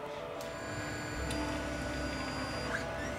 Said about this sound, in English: You can see this i3 Mega prints rather quickly, and it's also quieter than most of my printers.